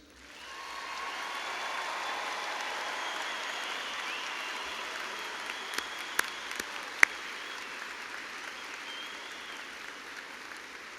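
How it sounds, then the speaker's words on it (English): A large arena crowd at a university spring commencement applauds its graduates, a sustained wash of clapping that swells in and holds steady, with a few sharp louder claps near the end. "Please join me in a round of applause for our graduates."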